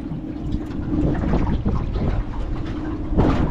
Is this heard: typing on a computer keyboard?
no